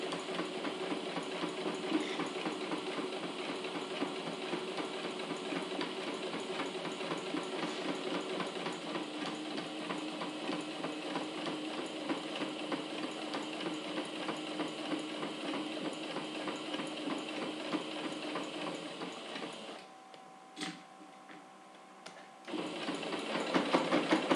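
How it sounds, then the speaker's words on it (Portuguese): Sewing machine running slowly and steadily while stitching the curved seam of a fabric zippered pouch, a continuous close mechanical whir that stops briefly near the end before resuming. "A parte curva costura bem devagar."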